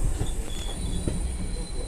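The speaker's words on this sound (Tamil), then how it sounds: "பெங்களூர்லேருந்து கோயம்புத்தூர் போகிற வந்தே பாரத்" A Vande Bharat express running from Bangalore to Coimbatore rushes past at a crossing with a steady, close, loud rolling rumble, faint wheel squeal and clickety-clack, and no voices.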